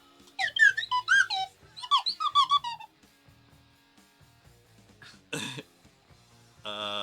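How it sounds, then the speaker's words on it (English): A slide whistle plays a run of wavering, gliding toots in quick bursts, followed after a pause by a short squeaky blast and a buzzy tone near the end. "Oh, where's my slide whistle?"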